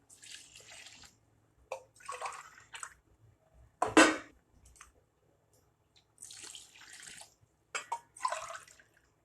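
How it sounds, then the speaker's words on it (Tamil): Water is poured from a tumbler into a pot of rice for vegetable biryani in a pressure cooker, a few separate splashing pours with quiet gaps, one louder gush near the middle. "இப்போ 4 டம்ளர் தண்ணி ஊற்றணும்."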